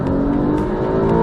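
A Porsche engine roars steadily under hard boosted acceleration, a loud sustained growl with a rising whine.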